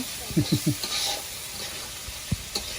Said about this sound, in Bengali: আমার মায় নাড়াচাড়া করতেছে